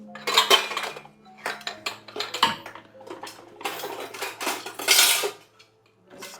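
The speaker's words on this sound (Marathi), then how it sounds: "छोटा चमचा होता ना रे इथे मयूर, तेवढा छोटा चमचा दे ना मला वॉश करून" Small steel spoons and other utensils clatter and clink repeatedly as they are rummaged through and washed in a home kitchen, with sharp irregular bursts of metallic rattling close by.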